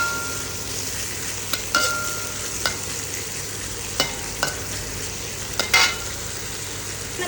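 Chopped long beans stir-frying in hot oil for vegetable fried rice, a steady close sizzle broken by several sharp scraping clicks of a spatula against the pan, with no talking.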